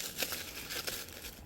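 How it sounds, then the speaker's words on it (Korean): Thin plastic vinyl gloves crinkle as they are pulled on by hand before gluing chest waders, giving a few short, close rustling bursts with no talking. "비닐장갑 끼고요."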